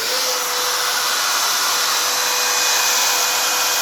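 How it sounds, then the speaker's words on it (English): A spindle motor on a 3D-printed CNC router, built to an Ivan Miranda design, runs with a steady high-pitched whine and airy broadband hiss, holding constant and fairly loud throughout with no talk over it. "here's where I turn on the spindle"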